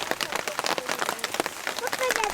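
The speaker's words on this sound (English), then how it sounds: "The sound of the rain is so relaxing." Steady rain pattering on surfaces at a campsite, a dense close patter of drops, with a few faint voices mixed in.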